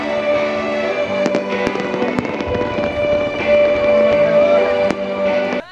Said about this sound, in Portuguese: E uma queima de fogos de 12 minutos